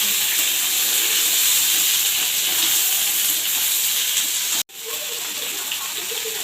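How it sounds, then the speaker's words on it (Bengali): Eggplant, ridge gourd and potato sizzle with a dried red chilli in hot oil in a kadai, a steady close hiss and crackle that cuts out briefly near the end before resuming. "কড়াইতে দিয়ে ভেজে নিলাম।"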